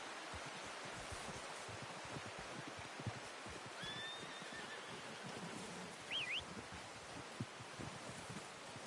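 A horse in the game Red Dead Redemption 2 gives a short, fairly faint whinny over a constant outdoor bed of rustling, rain-like noise and soft hoof and movement sounds.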